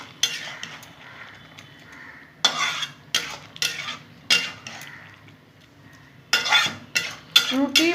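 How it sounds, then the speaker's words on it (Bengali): Masoor dal kofta curry being stirred in a pan, bursts of scraping and clinking from a spoon against metal that come in irregular clusters with a faint simmer between them, close and with no speech. "একটু নাড়িয়ে নেব।"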